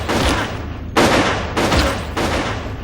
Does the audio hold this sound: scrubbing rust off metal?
no